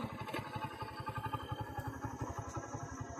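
A motorcycle engine idles nearby in a steady, rapid pulsing rhythm with faint clatter, running on without revving.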